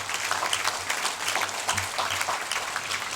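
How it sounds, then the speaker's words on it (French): An audience applauds at a town mayor's New Year greetings ceremony in Roquefort-la-Bédoule, a steady patter of many hands with a low hum beneath, continuing evenly throughout. "Vous pouvez l'applaudir parce que c'est gentil."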